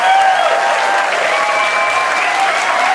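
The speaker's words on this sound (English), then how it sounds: "So round of freaking applause for this chick." A crowd bursts into sustained, loud applause that holds steady throughout, with a few cheers and whoops rising through the dense clapping.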